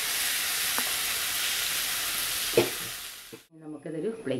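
Fried chicken for chicken kondattam being stirred in sauce in a pan, with a steady close sizzle and a few scraping strokes that cut off abruptly near the end.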